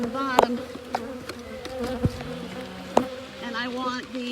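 Honey bees buzzing around a beehive during an early spring beeyard check, with several individual bees droning close past against a steady background hum; no talk.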